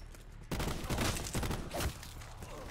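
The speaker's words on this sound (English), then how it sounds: "This shotgun's really good too." Shotgun fire in the video game Call of Duty Black Ops 4, a few heavy blasts booming close together amid dense, noisy game action, with no voices.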